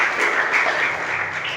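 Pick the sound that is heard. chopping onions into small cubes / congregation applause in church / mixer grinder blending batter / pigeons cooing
congregation applause in church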